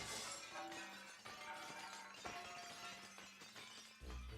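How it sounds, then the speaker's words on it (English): A barrier shattering in The Legend of Zelda: The Wind Waker, a glassy crash followed by bright tinkling shards and game tones over several seconds, fairly quiet overall. "Barrier is shattering like there's no tomorrow."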